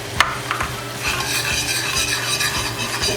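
Butter chicken curry is stirred in a pot with a spoon: steady scraping and swirling over a continuous sizzle, with a few sharp metallic clinks near the start and no talking.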